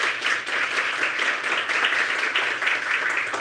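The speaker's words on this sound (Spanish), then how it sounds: "Le damos un gran aplauso a nuestras tres estudiantes de Pedagogía en Inglés" Sustained applause from an audience honouring three English-teaching students at an online education webinar, a steady crackle of many hands, moderately loud and unbroken throughout.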